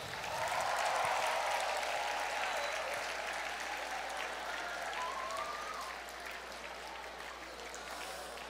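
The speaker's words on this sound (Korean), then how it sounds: "우리 특별히 10학번들 크게 박수해주고 한 번씩 안아줘요." A large congregation at a church summer retreat applauds loudly, with dense sustained clapping and a faint murmur of crowd voices, slowly easing off toward the end.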